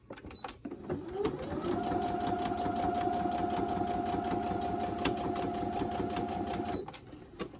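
Sewing machine running steadily while stitching quilt block pieces together with a quarter-inch seam, a loud continuous motor whir with rapid needle clatter for several seconds, starting and stopping cleanly.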